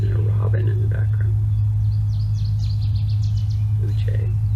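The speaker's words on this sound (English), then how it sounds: "And a robin in the background." An American robin sings in the background outdoors, a run of short bright phrases strung together over a steady low rumble, distant and moderately faint, with quiet voices nearby.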